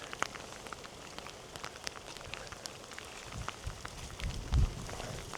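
Heavy rain pounding steadily on surfaces outdoors at New Brighton on the Wirral, a dense, constant patter with a few closer thuds near the end and no voices.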